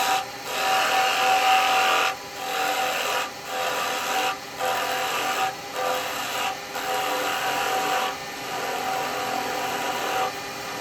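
A carbide chisel cutting wood on a lathe while riding the bevel, a steady close scraping hiss broken by brief pauses in a regular rhythm, with no voices.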